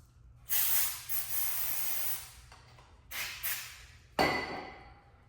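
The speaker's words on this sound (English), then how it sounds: "We'll brake clean that out." Brake cleaner sprayed into a sludgy engine part of a Yamaha C3 scooter, heard as close, loud hissing bursts: one long spray, then two shorter ones and a final sharp blast.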